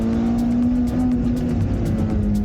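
Honda car engine driven on a private mountain road, a steady loud drone with a constant low hum and engine note held close inside the cabin, no talk.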